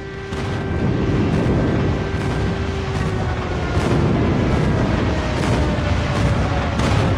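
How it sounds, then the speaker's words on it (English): Airstrike explosions in Call of Duty roll on as a loud, continuous barrage of booms and rumbling blasts for the whole stretch, with no talk over them. "Friendly airstrike incoming."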